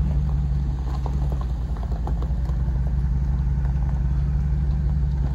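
Low, steady engine rumble of a vehicle reversing a trailer around a corner, heard from nearby as a continuous idle-like drone with faint rattles on top and no talking.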